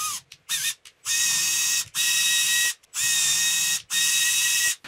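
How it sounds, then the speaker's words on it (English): A power tool taps threads into drilled holes in a steel beam, running in three loud, even bursts of whirring with short silent pauses between them, preceded by a few brief clicks. "We're going to tap them."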